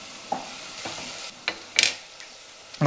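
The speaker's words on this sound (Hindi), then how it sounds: "तो अनियंस को कैरेमलाइज होने देंगे, ब्राउन होने देंगे, light brown, not dark brown, और ये सब हाई हीट में ही विल डू इट." Onions frying and caramelizing over high heat hiss in a steady sizzle, while a spoon stirs them with several sharp scrapes and clinks against the pan, close by and without voices.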